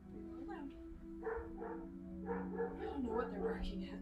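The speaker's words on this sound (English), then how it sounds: "I don't know what they're barking at." Dogs bark indoors from downstairs in a home, a few sharp yips and barks at moderate distance mixed with steady household hum and someone talking nearby.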